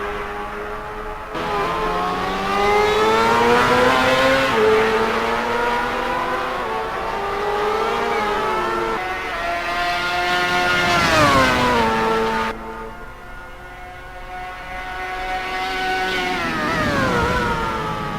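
Sim race cars at Silverstone roar and rev continuously through the whole stretch, engine pitch climbing and falling with gear changes as several cars pass close, with no talk over the sustained loud engine noise.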